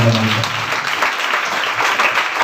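Congregation applause in a church, a brief burst of many hands clapping, loud and steady, with a low voice audible at the very start.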